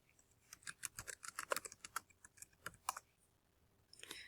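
Rapid bursts of crisp key clicks from typing on a computer keyboard, close and fairly quiet, in uneven rhythmic runs with a brief pause near the end.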